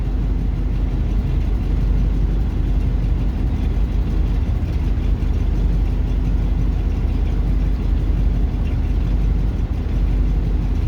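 A Buick engine at startup, sitting in drive with the reverse lights adding load, runs steadily with a low, rough rumble and a slight irregular sputter throughout, no voices present.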